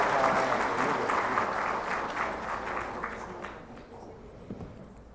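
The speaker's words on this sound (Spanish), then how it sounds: "Un aplauso nuevamente y nuevamente muchas gracias" An audience at a family law and therapeutic justice event gives a sustained round of applause, loud at first and gradually thinning and fading over the final seconds.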